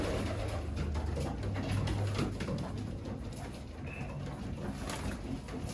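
Pigeons feeding in a new loft coo and murmur continuously at close range, a steady layered flock sound with faint pecking and shuffling beneath.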